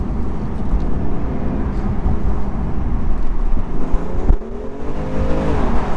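A BMW M2's S55 engine drones steadily from the driver's seat on the move, loud and continuous with a slightly tinny edge, then rises in pitch as the revs build toward the end.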